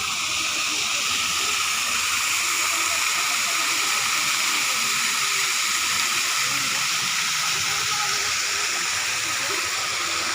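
Steady broadband rush of flowing water, like a waterfall, fills the whole stretch at constant loudness with no break; a faint voice may sit beneath the roar.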